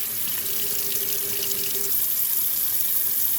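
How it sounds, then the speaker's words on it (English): Cold tap water runs steadily into a sink as six raw chicken thighs are rinsed in a Ninja Foodi pot, a continuous close splashing hiss with no talk. "Make sure they're thoroughly rinsed in cold water."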